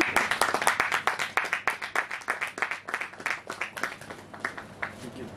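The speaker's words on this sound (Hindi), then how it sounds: "जोरदार तालियों के साथ।" An audience applauds loudly at a Hindi-language event ahead of the Ram Lalla Pran Pratishtha celebration, a burst of rhythmic clapping that rises strongly and then slowly thins out, with a voice faintly audible beneath.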